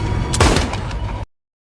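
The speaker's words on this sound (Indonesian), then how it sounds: "si pemuda mengeluarkan pistol dan karena tak melihat pilihan lain, si pemuda pun terpaksa melepaskan tembakan" A single loud pistol gunshot with a heavy boom and short ringing tail, then the sound cuts off abruptly into silence.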